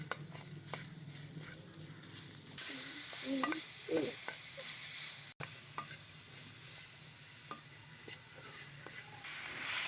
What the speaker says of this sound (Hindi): अच्छी तरह से भूनेंगे कीमे को